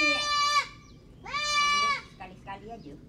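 A goat kept by an elderly woman in a Malay village on Bintan bleats nearby: two long, loud, wavering cries, then a few shorter, broken bleats trailing off, with no talk over them.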